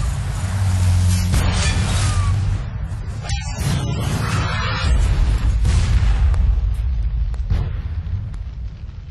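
A Textron IMS intelligent munition strikes an enemy vehicle across a street, giving loud booming blasts and rumbling bursts with rough debris noise over a few seconds.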